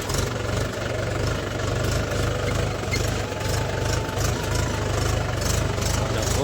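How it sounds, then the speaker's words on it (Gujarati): A tractor engine runs steadily at a low, chugging idle, close and continuous throughout. "તો ગાઈઝ આપણું ટ્રેક્ટર નીકળી ગયું છે"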